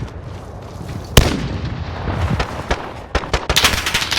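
Video game gunfire from a Sykov automatic pistol and an MP5 crackles in sharp bursts, one loud shot followed by rapid clustered reports over a steady battle din.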